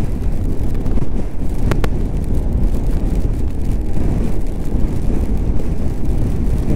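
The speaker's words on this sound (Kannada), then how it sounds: "ಗಾಳಿ ಮತ್ತು ಮಳೆ ಎರಡೂ ಸ್ಟಾರ್ಟ್ ಆಗೋಯ್ತು ಒಂದೇ ಸಲ" Wind and rain arriving together on a mountain road trip in Ladakh. Heavy wind buffets the microphone with a loud, constant low roar, and a faint patter rides along underneath. No one speaks.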